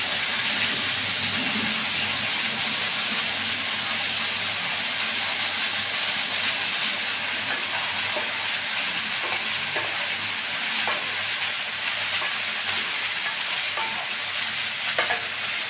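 Soaked chickpeas hitting hot oil in a frying pan, a loud continuous sizzle with repeated stirring scrapes, close and unbroken.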